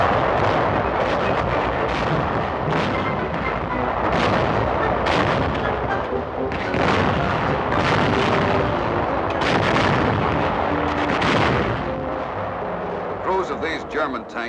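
Tank gunfire in a WW2 battle: dense, continuous rapid cannon and gun blasts with heavy rumbling booms, loud and chaotic throughout.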